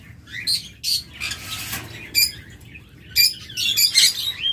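A pair of locally bred caged pet birds chirps in short, bright bursts, with shrill calls coming in clusters over a low background hum and faint rustling.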